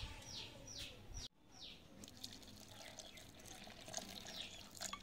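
Water pours steadily into a mixer jar holding onion, tomato and grated coconut, a faint continuous trickle with birds chirping in the background and a brief break partway through.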